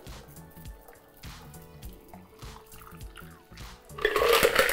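A shaken green Midori cocktail pours from the shaker into a glass, with soft trickling and dripping mixed with small ice clinks, rising to a louder, fuller splash near the end.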